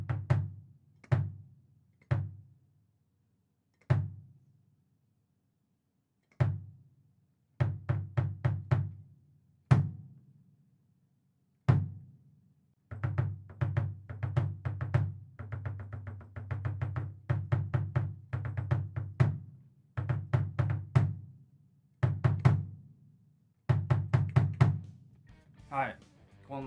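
A Compact Traveler bass drum fitted with its original head is struck close up: spaced single low thumps at first, then quicker rhythmic patterns of deep booming kicks with short pauses between phrases.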